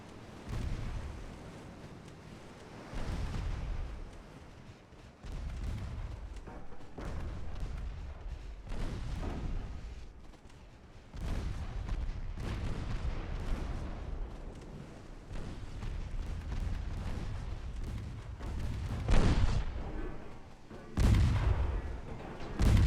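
Heavy battleship guns booming in the naval game Ultimate Admiral Dreadnoughts, repeated deep blasts rolling one into another over a low rumble, loud and sustained throughout.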